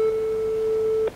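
A telephone ringback tone sounds during a call, one steady mid-pitched tone holding for about a second before cutting off abruptly.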